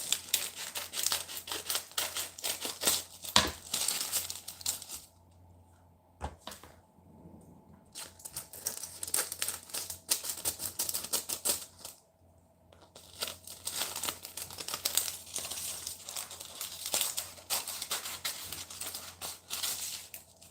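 Plastic packaging around ground beef being cut and torn open, with bursts of close crinkling and rustling separated by short quiet gaps, no talk.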